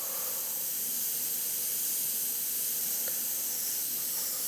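An airbrush sprays paint with a steady, close, high-pitched hiss of air that runs unbroken from start to finish, alone and without speech.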